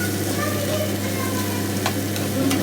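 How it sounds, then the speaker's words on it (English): Onions frying in a pan for beetroot pulao, a dense, steady, loud sizzle with a low hum underneath and faint scrapes near the end, no voices. "fry the onions until it gets to a golden brown color"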